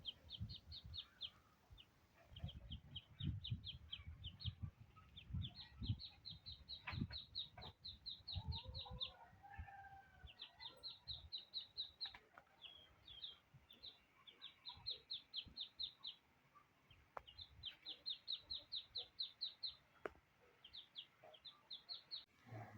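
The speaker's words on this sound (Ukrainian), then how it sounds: "А ось хто у нас тут пищить? У сусідів в загородці вилупилося каченятко одне." A newly hatched duckling peeps rapidly and high-pitched in quick bursts of repeated chirps, fairly close, with rustling and low scuffling noises underneath; no talking.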